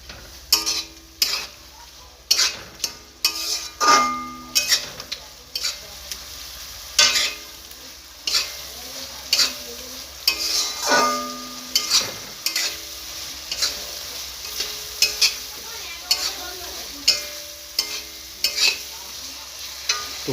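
Country chicken fries in a pan while a spoon scrapes and stirs it in repeated sharp clacks over a low continuous sizzle, heard up close with no talking.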